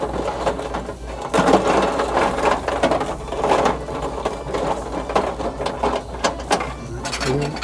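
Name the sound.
checking claw machine motor for something stuck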